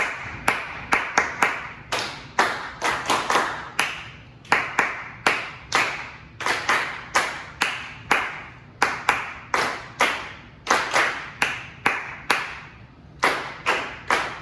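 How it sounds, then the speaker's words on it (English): Students in a choir class clapping a rhythm together, sharp unison claps in a repeating pattern of short groups with brief pauses, close and crisp with no talking. "I want you to be analyzing while you clap"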